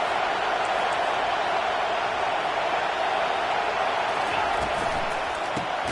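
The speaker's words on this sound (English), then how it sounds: "It is getting loud as this crowd tries to help its defense." Football stadium crowd roars and grows loud to back its defense, a broad sustained din of many voices with a commentator talking over it.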